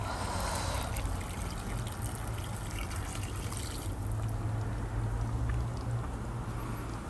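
Water pours steadily into a pot of sinigang na bangus seasoned with fish sauce, a continuous close trickling and splashing with a low hum underneath, no talking.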